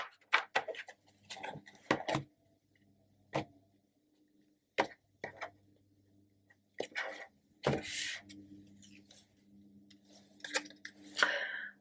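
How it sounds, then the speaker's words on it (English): Tarot cards are shuffled in a quiet room in irregular bursts of riffling and slapping, each a second or less, separated by near-silent pauses and a faint low hum. "I'm going to do one more shuffle for you as well"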